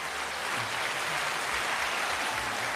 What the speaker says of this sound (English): Applause again.